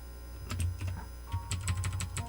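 Fingers tapping on a computer keyboard during a Rhino3D jewelry ring-modeling tutorial, a quick irregular series of soft, close clicks with short pauses, no talking.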